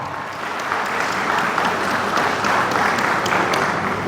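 Dense, even applause fills the room as a school audience claps at a founders' day principal's address, a steady wash of many hands with no voices on top.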